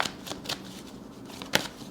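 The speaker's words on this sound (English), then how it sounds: "I heard flip the deck. Okay, shuffle." A deck of tarot cards riffles and flutters in quick shuffling bursts at close range, ending with a sharper snap as the cards settle.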